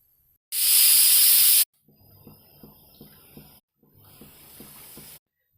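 Pressure cooker on a gas stove at medium flame, cooking whole brinjal and potato curry, lets out one loud sustained whistle-hiss of steam, then softer rhythmic puffing and rattling of the weight continues alone.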